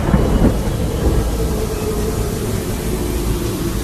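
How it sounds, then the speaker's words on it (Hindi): A strong wind suddenly blows hard with a steady, loud, broadband rush and low rumble that fills the whole stretch, with no voices. "तभी अचानक तेज हवा चलने लगी"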